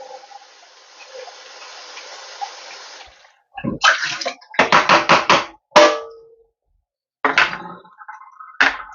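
Homemade mason-jar butter rinsed under running water: a steady stream of tap water runs for about three seconds, then gives way to bursts of splashing, squelching and knocking as the lump is worked, with short pauses between.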